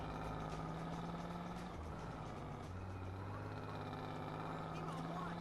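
A car engine in Grand Theft Auto San Andreas strains up a hill, a loud steady drone with shifting low tones that runs without a break alongside traffic noise.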